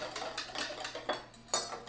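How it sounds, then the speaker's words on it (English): Whisking batter in a bowl: quick, light rhythmic clinks and scrapes of a whisk against the bowl, close and fairly soft, with no talk. "Give it another whisk, just to make sure everything is well blended."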